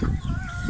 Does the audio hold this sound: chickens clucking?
yes